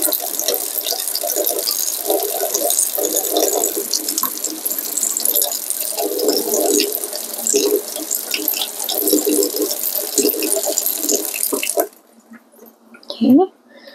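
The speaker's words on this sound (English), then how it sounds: "I'm going to run this under hot water" Hot water pours from a tap in a steady splashing stream for about twelve seconds, close and fairly loud, then stops, leaving a faint rustle.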